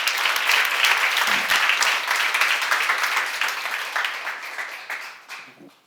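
A church congregation breaks into loud, dense applause that holds steady for several seconds and then tapers off toward the end.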